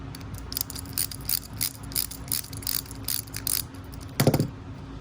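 Screws are driven into a filament roll holder kit with a small hand tool, giving rapid repeated ratcheting clicks in quick bursts, close and fairly quiet, ending in a brief louder clatter.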